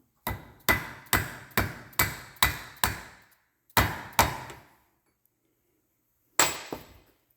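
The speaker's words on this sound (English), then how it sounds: "And this is a dead blow hammer." A busted plastic dead blow hammer filled with sand strikes metal during a slope mower axle repair: eight sharp, ringing blows in a steady rhythm, a pause, then two more and a final pair after a longer gap.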